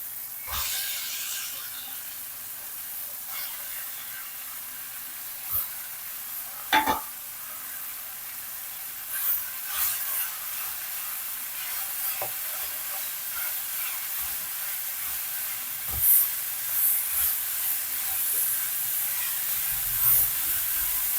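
Chopped Malabar spinach fries in a pan with a continuous low sizzle and hiss, broken by occasional clinks and scrapes of stirring.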